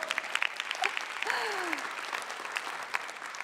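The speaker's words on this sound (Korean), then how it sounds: "박수 쳐도 돼요." A lecture audience at a storytelling talk applauds in a full, continuous round of clapping, with a few voices rising over it as the clapping gradually eases.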